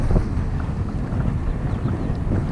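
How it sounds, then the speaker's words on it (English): Strong wind buffets the microphone in a steady, loud roar, heard alone with no other sound, high in Utah's Uinta Mountains beside a trout lake. "It's pretty windy up here, so it's blowing my line all over"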